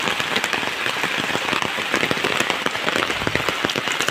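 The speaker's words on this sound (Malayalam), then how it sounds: "നല്ല അടിപൊളി മഴയാണ്" Heavy rain pours down continuously, a dense close hiss filled with many sharp drop impacts, loud and unbroken throughout with no voices.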